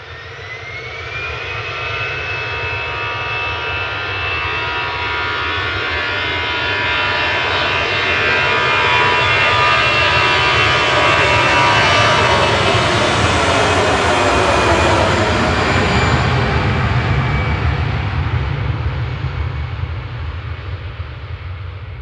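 An airliner departs Manchester Airport on a flight to Faro with a loud, close jet engine roar. It swells to a peak midway and then slowly fades, with a whining tone over the rumble.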